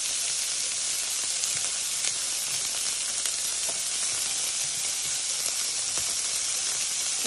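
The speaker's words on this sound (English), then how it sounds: "So first thing first, you're going to throw the bacon with your clean hands into the pan." Chopped hickory-smoked bacon sizzles and spits in a hot pan, a steady dense frying hiss with scattered small pops, close and continuous throughout.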